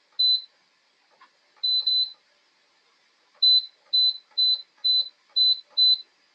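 Electric pressure canner control panel beeping as the high setting and timer are punched in for canning ground beef: a few spaced single beeps, then a quick run of six evenly timed beeps, crisp and close, with quiet button clicks between.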